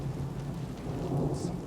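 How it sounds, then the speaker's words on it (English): Rain and thunder in the video game Oblivion Remastered form a steady, low rumbling wash of rainfall with a soft rolling thunder undertone, heard alone and at moderate volume. "It's raining"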